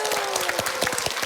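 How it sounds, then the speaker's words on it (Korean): Studio audience applause on a Korean health variety show, a dense, steady wash of many hands clapping close and loud throughout, with no talk over it. "박수를 보내고 싶습니다"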